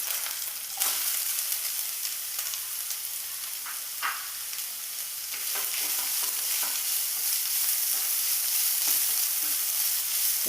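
Chopped large onions sautéing in a pan with oil for a stuffed chicken dish, a steady close sizzle broken by repeated spatula scrapes and stirring clicks, with no talk.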